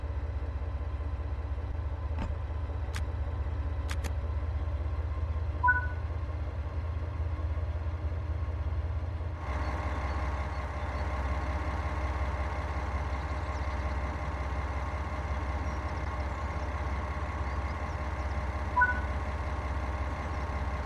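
A BR 365 locomotive engine in Train Sim World 3 drones at a steady idle hum, then steps up abruptly to a louder, fuller running note partway through and holds there, with a few faint high beeps early on.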